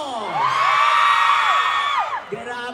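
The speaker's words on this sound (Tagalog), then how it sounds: "Grabe, paninigapa ko ng palakpakan na may kasamang hiyawan." At a mall show at SM Seaside City Cebu, a crowd greeting Paulo Avelino lets out loud, sustained high-pitched screams and cheers that swell and then fade near the end, with clapping mixed in.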